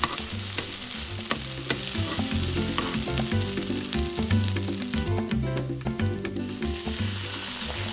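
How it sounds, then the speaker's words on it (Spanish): Chopped onion and garlic sauté in a pan, a steady loud sizzle with repeated scraping stirs and clinks of a utensil throughout, no voices. "Una vez que hayas sofreído la cebolla con los ajos"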